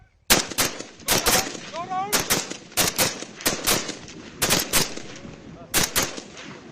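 BSF soldiers firing rifles at a border target range near Jaisalmer, sharp loud shots cracking out singly and in quick pairs with brief gaps, each followed by a short echo, and a voice briefly audible between shots.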